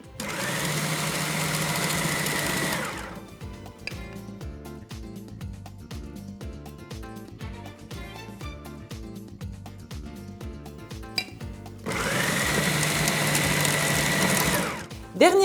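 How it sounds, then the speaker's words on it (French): Food processor pulsing flour into pastry dough for apricot tartlets, loud whirring bursts at the start and end with a quieter stretch of short mechanical pulses between them. "au fur et à mesure, je donne des petits tours de robot"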